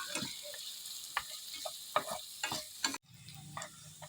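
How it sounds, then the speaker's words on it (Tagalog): Garlic and onion sauté in a pan for a chicken mung bean stew, with soft sizzling under repeated spatula stirs and scrapes, and one louder clack before the frying settles into a steady low hiss. "Gisa-gisa hanggang lalabas yung kanilang aroma."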